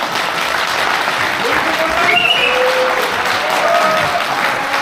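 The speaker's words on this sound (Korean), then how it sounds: "다시 한번 뜨거운 박수 부탁드립니다" An audience at a book launch event applauds, a dense and continuous clapping that fills the room at steady loudness, with a faint voice rising briefly beneath it.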